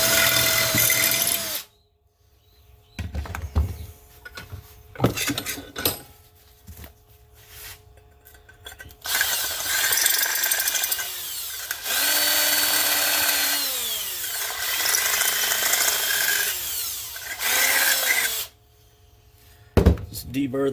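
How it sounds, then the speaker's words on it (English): A power drill deburrs mounting holes in a Miata dash panel, producing several loud bursts of whirring and grinding separated by pauses, with someone talking in between. "Deburr the back side there."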